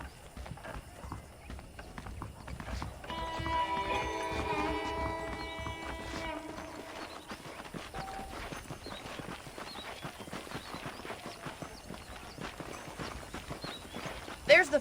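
Horse hooves clip-clop at a steady walking pace in Red Dead Redemption, fairly faint, under background music and a voice.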